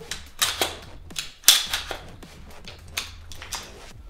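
An Omega gun lock is twisted counterclockwise and drops out of a firearm, giving a few sharp, close metallic clicks and clacks in quick succession with quiet gaps between.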